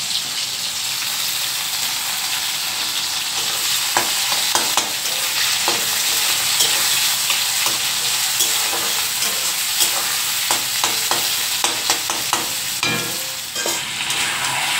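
Chopped onions hiss and crackle steadily in hot oil for a meat curry, with frequent scraping clicks of a spatula stirring the pan throughout.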